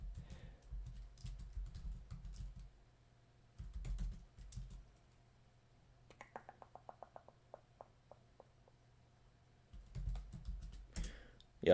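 Bursts of typing on a computer keyboard set apart by quiet gaps, with a faint hum underneath and a short run of higher repeated tones partway through, then more keys near the end.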